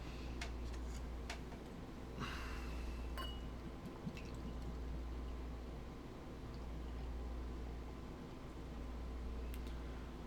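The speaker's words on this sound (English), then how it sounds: "let's open the growler and see what we think" A growler of Trillium/Other Half Green Street beer is opened and poured into a glass at a bar: faint clinks and taps, then a short soft pouring hiss over a low steady hum.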